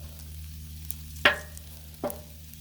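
Beef stir fry sears on a Blackstone griddle, a low steady sizzle with two sharp scraping clicks of a spatula against the flat-top.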